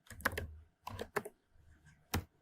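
Code is being typed on a computer keyboard in quick bursts of close, crisp key clicks, with short pauses between clusters and one sharp final keystroke.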